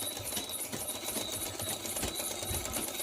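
A sewing machine runs steadily, stitching a katori blouse with sleeve and blouse fabric held together, its fast mechanical rattle continuous and close throughout with no pauses.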